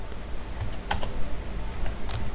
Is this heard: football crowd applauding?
no